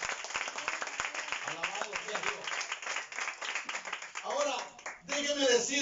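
A church congregation claps during a Spanish-language sermon, starting with a few sharp separate claps that thicken into brisk applause, while a preacher's voice talks and calls out over it.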